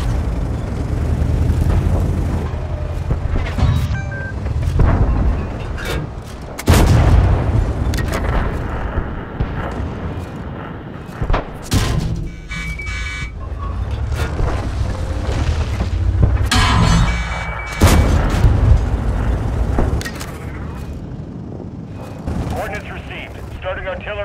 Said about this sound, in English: Starting artillery barrage now.